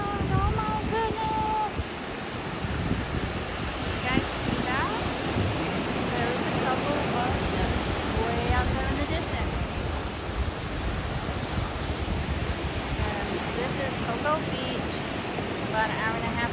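Ocean surf at Cocoa Beach, Florida, washes in as a continuous broad roar of breaking waves, with faint distant voices carrying in the background throughout.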